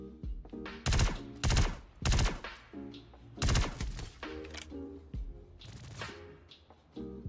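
Bursts of video game gunfire, several loud broadband volleys in quick succession with rapid repeated shots between them, fairly close and no talking over it.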